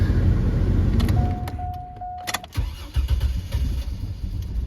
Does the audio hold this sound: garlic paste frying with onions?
no